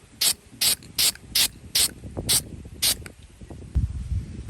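A spray can hisses in about seven short, regular bursts while paint goes onto a motorized bike for a rusty patina finish. Each spurt is loud and close, with faint handling clatter between them.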